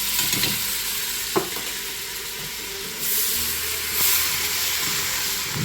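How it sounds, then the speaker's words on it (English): Garlic stirred and fried in a pan, a soft steady sizzle and hiss with a sharp utensil tap near the start and brief bursts of louder steam later, close and alone. "so we're just going to stir this for 30 seconds"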